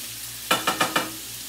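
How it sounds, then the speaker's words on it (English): A whole sausage frying in a pan while a spatula pushes it around: four quick, evenly spaced scraping strokes over a quiet, constant sizzle. "Cooking this sausage whole"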